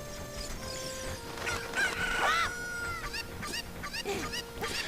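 A cuckoo chicken from The Legend of Zelda: Ocarina of Time clucks and crows in a series of rising, warbling calls over a soft game backdrop, loudest midway, with no talking.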